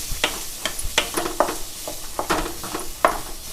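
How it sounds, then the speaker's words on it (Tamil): Finely chopped beetroot sautéed in butter in a pan for beetroot butter masala, with close, uneven scraping strokes of a spoon against the pan over a soft background sizzle. "பீட்ரூட்டு பொடியாக நறுக்கி வச்சுருக்கிறேன். இதோடு சேர்த்து கொஞ்சம் நேரம் வதக்கி விட்டுக்கலாங்க."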